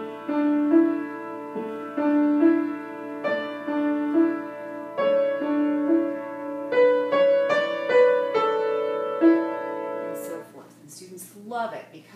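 A solo piano plays a gentle, flowing piece from the Faber Piano Adventures Level 2A book, with a steady repeating left-hand pattern beneath a clear melody, ending with a brief rustle.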